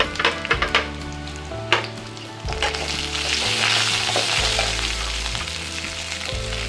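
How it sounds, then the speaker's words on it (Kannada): Garlic, coriander and mint leaves fry in a pan with a continuous sizzle, and a few sharp stirring clatters come near the start. "ಎಲ್ಲನೂ ಫ್ರೈ ಮಾಡ್ಕೊತಾ ಇದ್ದೀನಿ"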